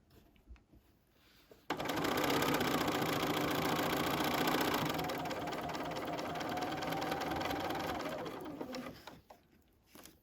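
A sewing machine runs steadily for about seven seconds, stitching a scant quarter-inch seam along a tote bag gusset with pins in place. It starts abruptly after a quiet moment, holds a loud continuous whir, then stops, with no talking.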